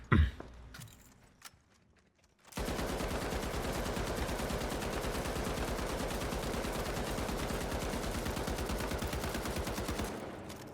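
An M60 machine gun fires in The Finals, a long, loud, unbroken burst of rapid rhythmic shots lasting about eight seconds after a short quiet lead-in with a few clicks and handling noises.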